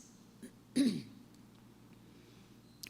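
A single short throat clearing near the start, quiet and close, followed by near silence with a faint small sound at the end.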